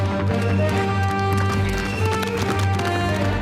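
Horse hooves clattering at a gallop in a Lucky Luke cartoon chase, a steady rush of hoofbeats over busy music and effects, loud and continuous throughout.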